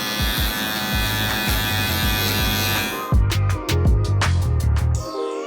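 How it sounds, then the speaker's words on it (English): A Gamma Evo X electric hair trimmer fitted with a number 8 guard buzzes steadily close up, then sounds with a series of rhythmic pulses and quick, choppy passes as it works through hair. "creating my first guideline with my Gamma Evo X trimmer"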